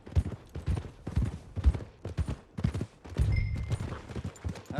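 Horse hooves clip-clop in Red Dead Redemption 2, a close, rhythmic run of muffled thuds at a walking to trotting pace, heard with no voices.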